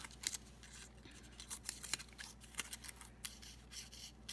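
Scissors snipping paper for a Valentine rosette, a quick series of small crisp cuts close up and quiet, with no talk.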